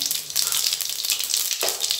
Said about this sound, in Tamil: கொஞ்சமாக ஜீரகம், உளுத்தம் பருப்பு சேர்த்துக்கிறேன்